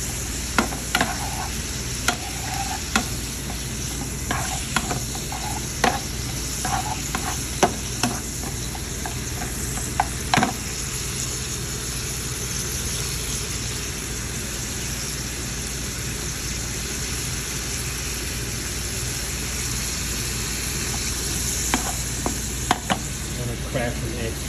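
Pork fried rice with soy sauce stirred in a pan, sizzling steadily throughout, with repeated sharp clicks and scrapes of the utensil against the pan over the continuous frying hiss.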